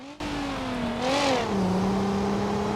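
A single car engine in BeamNG.drive revving up, its pitch climbing and then settling back into a steady hum, heard up close without talk.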